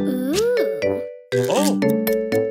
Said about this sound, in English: We wait, wait, wait till we hear a chime